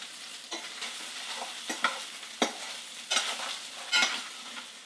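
Garlic frying in a lightly oiled frying pan is stirred for a country-style rigatoni dish, with a steady sizzle broken by repeated scraping strokes of the utensil against the pan, close and clear with no talk.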